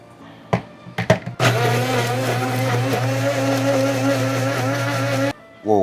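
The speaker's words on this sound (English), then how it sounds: "And we're just gonna blend." A kitchen blender whirs loud and steady for about four seconds, puréeing a maple syrup and Scotch bonnet glaze with salt and pepper, after a few sharp clicks and knocks as it is switched on.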